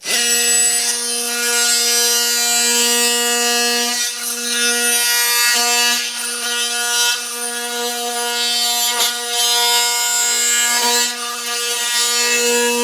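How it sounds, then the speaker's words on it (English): A scraper working old flooring off a mudroom floor, a continuous loud grinding scrape with a strong steady tonal hum, broken by short pauses as the tool is repositioned. "Then we'll start scraping the floor."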